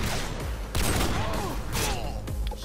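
Barrett sniper rifle fire in Modern Warfare 2 free-for-all multiplayer: a few heavy booming shots over dense, continuous game noise, with a voice talking faintly underneath.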